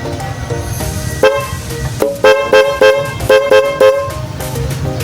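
A car horn honks in several short, loud blasts with brief gaps after horn relay wiring is installed, heard up close over a low engine or background rumble.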